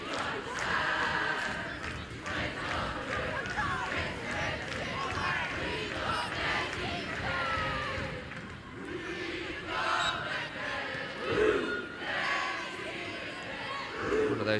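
A women's football crowd at an Arsenal versus Reading WSL match lets out a loud, sustained ooh, the broad crowd roar holding steady throughout with brief swells near the end.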